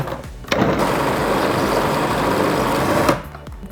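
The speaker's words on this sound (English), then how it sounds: "you literally put in your other ingredients. And you blitz them up again" A food processor blitzes watercress with Thai fish cake ingredients, its motor kicking in loudly after a brief pause, whirring at full power for about two and a half seconds, then cutting out.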